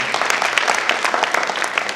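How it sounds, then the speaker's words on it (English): A graduation-ceremony audience in Kenya claps steadily for graduating students. The applause is dense and continuous throughout, with individual hand claps standing out near the listener. "Clap for them."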